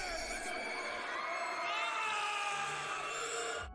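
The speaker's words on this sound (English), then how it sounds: "an audio clip filled with monster growls, people screaming and crying in terror and agony" Frantic crowd of voices shrieking and wailing in terror from an Aqua Teen Hunger Force cartoon scene of monster attack, a dense, loud, continuous wall of screams that cuts off abruptly at the end.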